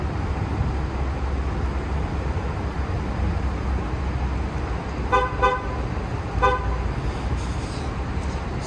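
A 2014 Ford F-250 Lariat pickup chirps its horn as it locks with the key fob, two short toots about a second apart over a steady idling engine rumble.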